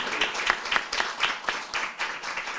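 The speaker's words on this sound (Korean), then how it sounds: "박수로 뜨겁게 환영합니다." An audience claps at a Korean celebration evening to welcome a visiting pastor, the applause fairly quiet and a little distant, with a loose, pulsing rhythm of individual claps across the short stretch.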